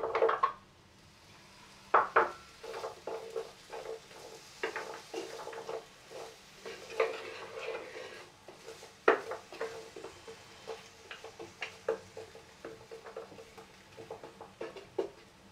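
Pumpkin pieces stirred in a hot pan with chili, giving soft sizzling under repeated scraping and clinking of a utensil against the pan, close and moderately quiet, with no talk.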